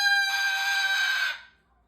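Pet parrot Tango lets out a loud, harsh, sustained squawk, a single shrill yell held for over a second before cutting off sharply, close to the microphone with no talking.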